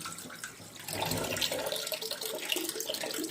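Tap water runs steadily over dishes in a sink for a rinse before soaping, a continuous splashing rush that grows louder partway through, with no voices.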